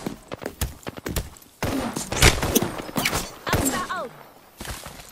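Gunfire in Apex Legends, sharp bursts of shots scattered through a busy in-game firefight mixed with footsteps and effects, loud and close with no clear talk over it.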